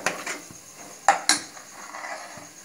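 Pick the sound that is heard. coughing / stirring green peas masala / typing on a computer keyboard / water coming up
stirring green peas masala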